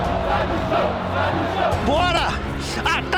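Flamengo supporters of the Raça Flá group chanting at the Maracanã stadium, a loud, continuous crowd roar with rising shouted chant voices swelling across the stretch.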